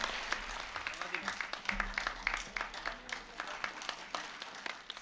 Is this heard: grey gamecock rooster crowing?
no